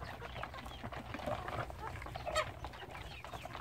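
Chickens cluck and murmur close by in a coop at morning feeding time, with scattered sharper calls rising over a low background hum.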